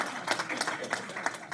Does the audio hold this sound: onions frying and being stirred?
no